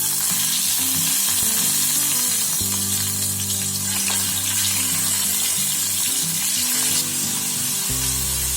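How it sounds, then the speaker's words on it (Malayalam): Marinated chicken pieces shallow frying in about a tablespoon and a half of oil, a loud, steady sizzle and crackle of hot oil filling the whole stretch with occasional stirring noises and no talk. "ഈ ചിക്കൻ പീസസ് മാരിനേറ്റ് ചെയ്ത് വെച്ചത് ഒന്ന് ജസ്റ്റ് ഫ്രൈ ചെയ്തെടുക്കാൻ പോവാണ്. ഷാലോ ഫ്രൈ ചെയ്താൽ മതി."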